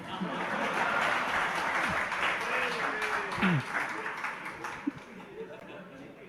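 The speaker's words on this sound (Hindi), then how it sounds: "आप लोग बहुत जोर से तालियां बजा दी" An audience at a religious discourse claps loudly, a sustained wash of applause with a voice speaking over it and a few sharper individual claps toward the end.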